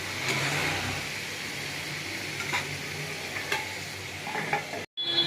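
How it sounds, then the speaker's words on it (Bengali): Spice paste for a tangra fish curry fries in a pan, a steady soft sizzle with faint scraping as it is stirred, ending in a brief cut of silence. "এই মশলাটা আমি ভালো করে একটু কষে নেব।"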